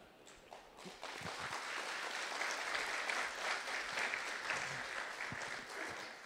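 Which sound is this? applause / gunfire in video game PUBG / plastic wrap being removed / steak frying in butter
applause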